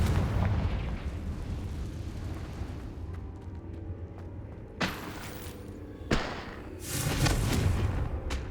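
A Confringo spell explodes in the video game Hogwarts Legacy with a booming rumble, followed by two sharp bursts and a rising roar near the end.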